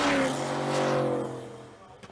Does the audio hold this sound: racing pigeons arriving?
no